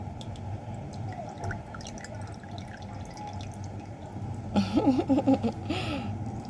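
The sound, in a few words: squeezing oranges by hand for juice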